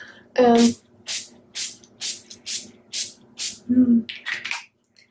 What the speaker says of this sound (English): the final step is setting spray